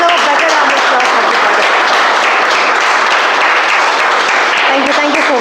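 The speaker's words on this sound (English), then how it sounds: "They definitely deserve a better round of applause." Meeting participants give a sustained round of applause for the evaluators of meeting number 78, dense continuous clapping at close range with a voice faintly mixed in.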